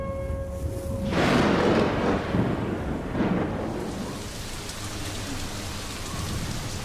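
Rain falls steadily on dry grass in open savanna while deep rumbles of thunder roll through, swelling loudly near the start and fading into a continuous wash of rain, with no talking.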